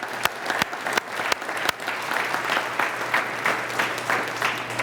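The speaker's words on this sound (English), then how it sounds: "Let's give them a big round of applause." An audience at a State of the City address gives a sustained round of applause, dense and steady with a few sharper claps standing out near the start, a low hum running underneath.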